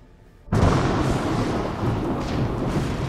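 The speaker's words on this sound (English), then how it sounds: "It was a dark, stormy night at the Roosevelt Long Island mansion." A sudden loud crack of thunder breaks in, then rolls on as a steady, heavy rumble over the hiss of rain during a dark, stormy night.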